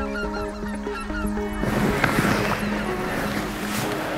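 Snow geese honk in a loud flock of overlapping calls, with the honking clearest at first and then washed into a dense, noisy chorus.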